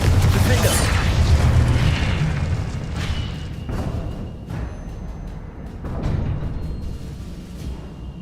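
A Confringo spell explosion in the video game Hogwarts Legacy bursts with a loud booming blast, followed by rumbling debris and further thuds, with a voice speaking over the game.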